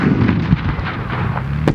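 A tank gun fires at a military vehicle show, a loud booming blast heard from a distance with a rumbling tail and several further bangs and pops over a continuous low roar.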